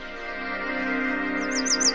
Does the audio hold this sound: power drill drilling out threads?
no